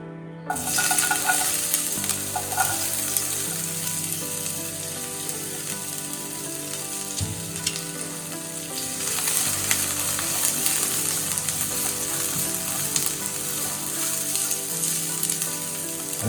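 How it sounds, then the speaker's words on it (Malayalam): Ginger and garlic fry in ghee in a pan for paneer butter masala, a loud, continuous crackling sizzle that holds steady throughout, close up with a few faint scrapes and no speech. "നമ്മുടെ ബാക്കിയിരുന്ന നെയ്യാണ് ഞാൻ ആഡ് ചെയ്യുന്നത് നമുക്കിതിലോട്ട് ഇഞ്ചിയും വെളുത്തുള്ളി ആഡ് ചെയ്ത് കൊടുക്കാം"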